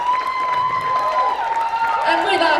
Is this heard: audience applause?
yes